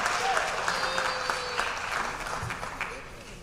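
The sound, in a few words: applause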